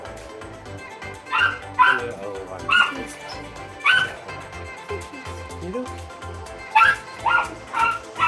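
A dog gives short barks, yips and whimpers in several bursts, with a person speaking softly nearby between the calls.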